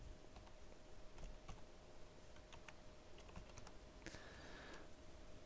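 Faint, quick keystrokes clatter on a computer keyboard in short irregular bursts over a soft background hiss, with a brief higher tone near the end.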